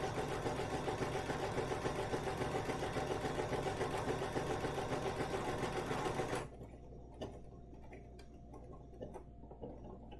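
A Bernina sewing machine stitches a buttonhole with a steady, fast mechanical whir for about six seconds, then stops, leaving a quiet room with a few faint clicks and small handling noises.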